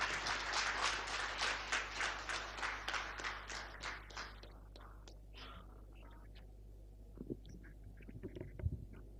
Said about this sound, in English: Please welcome him with your energetic claps